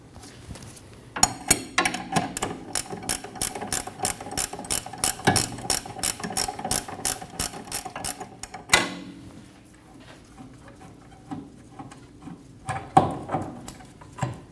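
A hand ratchet works a rear shock bolt loose on a 2012–2022 Volkswagen Passat, giving a long run of rapid, regular clicking strokes at close range. A pause follows, then a few scattered mechanical clicks and knocks.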